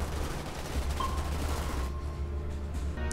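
Gunfire in the Starship Troopers: Terran Command video game, a dense rattling barrage of rapid shots filling the first two seconds before thinning into a quieter rumble, loud with no talking.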